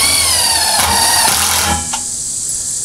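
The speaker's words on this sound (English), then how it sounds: "we're going to attach this with big screws. I'm using 3-inch deck screws" A power drill whines up in pitch as it drives a 3-inch deck screw into a treated 2x4, loud and close, then stops abruptly and leaves a softer background hiss.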